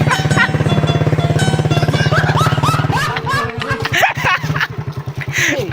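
A motorcycle carrying several riders is ridden on a burst tyre. Its engine drones loud and close for about three seconds, then gives way to rough, uneven engine noise mixed with voices and laughter.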